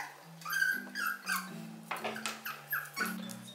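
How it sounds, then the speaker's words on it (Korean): A small dog whimpers and whines again and again, close and fairly quiet, in short high nasal cries with brief pauses between them indoors. "너 그렇게 낑낑대면 안 줄 거야?"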